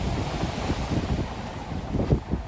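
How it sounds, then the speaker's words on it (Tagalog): Big ocean waves roll and crash under strong wind buffeting the microphone, a loud, continuous rough roar with surging swells and no talking. "ang lalaki ng alon"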